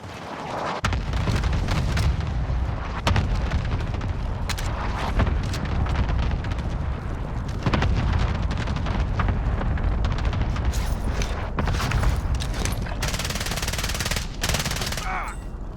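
A Call of Duty Warzone cluster strike unleashes a dense, continuous barrage of loud explosions and rapid gunfire-like cracks for the full stretch, relentless and close, with bursts layered over the roar and no pause.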